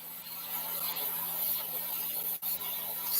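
A silicon carbide bristle disc sands a silver jewelry frame, giving a continuous close, gritty rubbing rasp with one brief dip in the middle and no talking.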